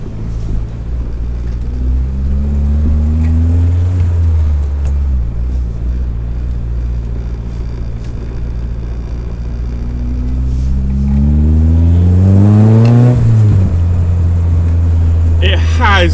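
A K20A2-swapped Honda Civic EG rolls downhill on noisy overrun, its engine droning and rumbling with a rising, revving surge near the end; someone talks over it from inside the car.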